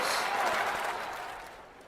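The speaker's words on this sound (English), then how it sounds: "Well, the crowd will react to that quite rightly." A crowd applauds in a London 2012 Olympic shooting event video game, a steady wash of clapping that swells briefly and then fades over about two seconds.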